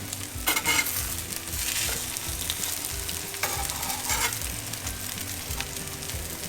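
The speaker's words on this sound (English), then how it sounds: "I'm just going to shallow fry all the eggplant pieces" Eggplant pieces shallow frying in a pan of oil, a steady close sizzle and crackle throughout with a few soft pan knocks and no talk.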